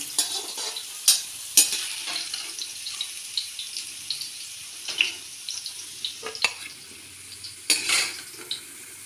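Radish pieces frying in oil for a radish and fenugreek sabzi, a steady low sizzle broken by frequent spoon scrapes and clinks against the pan, close by, without speech.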